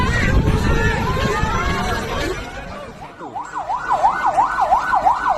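An ambulance siren wails in a rising and falling cycle after a crowd at an Indonesian regency office in Brebes where a porch roof collapsed, with babbling voices at the start before the siren dominates.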